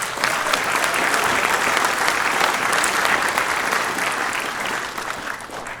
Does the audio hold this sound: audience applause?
yes